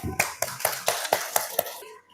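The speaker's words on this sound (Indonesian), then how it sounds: "Beri tepuk tangan." A classroom group claps in unison, about eight crisp, evenly spaced claps in a quick steady rhythm, fairly close, before a brief silence.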